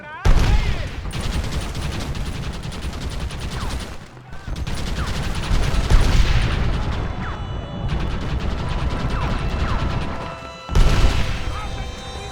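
Cannon blasts and a dense fusillade of gunfire during a fort defense in Red Dead Redemption, with loud sharp volleys, heavy booms and clattering shots sounding continuously, punctuated by a few brief pauses.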